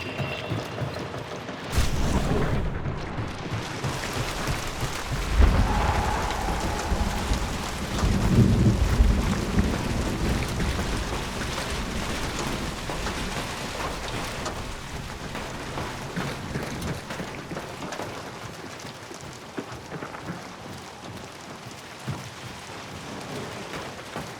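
Heavy rain pours through a forest in the video game Hunt: Showdown, a constant loud wash with deep rolling thunder that swells early on, then settles into a steady downpour.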